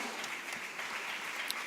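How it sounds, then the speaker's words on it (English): Audience applause at a Nigerian Bar Association law week event in Lagos. It is a steady, even wash of many hands clapping at a distance, brief and unbroken. "Please, a round of applause for her."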